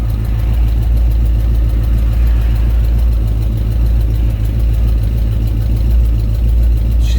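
A 1969 Pontiac GTO engine idles close by with a loud, steady low rumble and even, rhythmic pulsing, no voices present.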